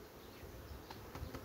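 Honeybees buzzing softly from an opened hive during beekeeping work, a faint, steady insect drone with a few brief louder passes near the end.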